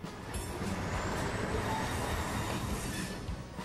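Toy model trains run around a large 20-by-20-foot home layout, giving a steady continuous rolling rumble with faint wheel squeal and clicking throughout, fairly quiet and without talk.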